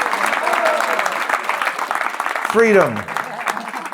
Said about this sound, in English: Let's give this beautiful devotee a round of applause